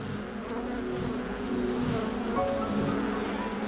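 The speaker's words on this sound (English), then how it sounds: "There are thousands of bees in there." Thousands of honey bees buzz from an opened hive, a dense, steady droning hum heard close and continuous with no talking.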